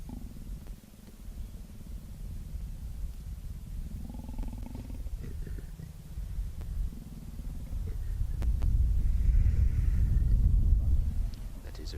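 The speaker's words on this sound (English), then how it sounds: "when he does, she growls at him" Hosana, a big cat, lets out low, rumbling growls that rise into a heavier, louder growl near the end over quiet outdoor background.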